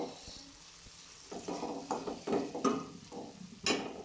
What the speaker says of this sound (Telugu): పుదీనా మంచిగా ఫ్రై చేసుకోవాలి.